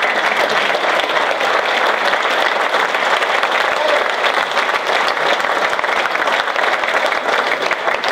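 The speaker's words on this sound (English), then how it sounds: "Stand up so we can clap for you guys." Crowd at the 2017 Massachusetts Hockey Hall of Fame awards claps steadily for a standing hockey family, loud continuous applause filling the hall for eight seconds.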